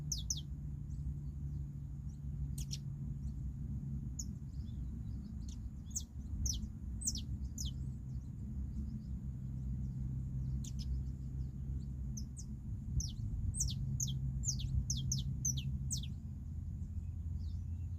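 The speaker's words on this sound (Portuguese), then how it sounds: "o barulho do pássaro cantando" Bird singing in a tree, giving repeated bright high chirps and short trills in irregular bursts throughout, fairly faint above a constant low background hum, with no one speaking.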